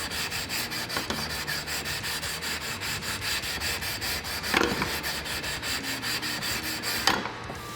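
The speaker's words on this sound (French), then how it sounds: "ça m'aura pris 5 bonnes minutes de ponçage pour rectifier ça" Steady back-and-forth sanding on an electric guitar fretboard with 240 grit, a continuous close rubbing rasp with regular strokes and a couple of louder scrapes, no voices.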